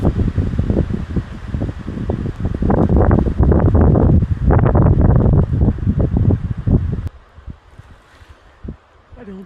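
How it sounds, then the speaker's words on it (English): Strong wind of about 35 mph gusts through an Arkansas woodland during turkey season, loud buffeting roar with rustling debris for several seconds, then dropping away to a faint breeze. "That was at least 35 mile an hour wind that just came through here, stirring up all kinds of crap."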